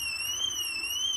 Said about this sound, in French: L'alarme sonne, etc.